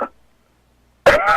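A short, harsh cough or throat clear bursts out near the end after a faint sound and near silence.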